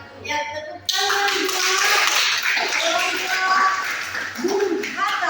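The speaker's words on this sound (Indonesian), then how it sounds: "Ya, tepuk tangan" A classroom of students applauding, a dense close burst of many hands clapping steadily, with faint voices underneath.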